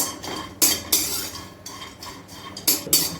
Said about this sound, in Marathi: हे बघा, सतत असं ढवळत राहायचं